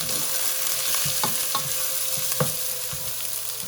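Three medium sliced onions sauté in a pan over lowered heat, with a steady close sizzle and a few sharp utensil scrapes and knocks as they are stirred, no talking.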